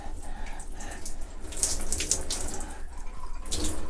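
Tap water running and splashing in a sink during a pet rat's bath, a steady close hiss with occasional brighter splashes, no talking.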